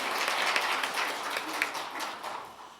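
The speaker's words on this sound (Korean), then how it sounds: "우리 호산나 성가대 한번 크게 박수 보내드리겠습니다" A church congregation gives a choir a round of applause: many hands clapping in a thick, continuous patter that swells at first and then gradually thins and fades.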